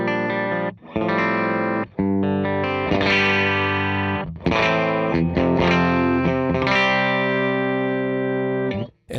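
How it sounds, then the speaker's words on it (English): Clean electric guitar through a compressor plays sustained chords and single notes, each strum even and full, with a few brief pauses and no voice over the playing. "So this is just my clean guitar tone with a compressor on."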